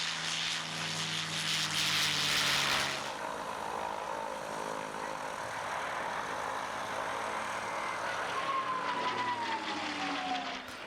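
Mustang and Spitfire propeller fighter plane engines drone steadily at a distance at an air show, a broad rumbling roar that swells early then settles into a continuous hum.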